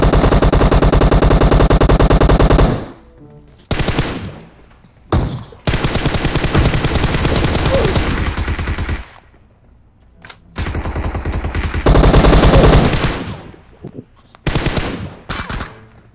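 Rapid automatic gunfire in a squad-based shooter video game, loud and close, coming in long sustained bursts separated by short pauses, with faint talk in the gaps.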